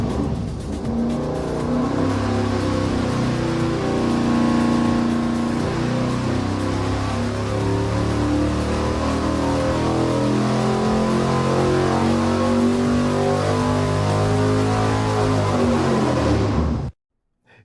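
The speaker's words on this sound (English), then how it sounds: "I'm going to make Steve fire it up on the dyno" Pushrod V8 engine with new pushrods and springs run hard on a dyno, a loud sustained roar climbing steadily in pitch for about sixteen seconds before cutting off abruptly.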